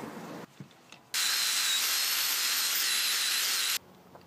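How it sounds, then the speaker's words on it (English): An 80 grit flap disc on a grinder works over a weld on a DIY Arduino CNC router frame, giving a loud, steady, high-pitched grinding that runs for about two and a half seconds after a few quiet knocks, with no talk. "I'm going to clean it up, grind it up a bit,"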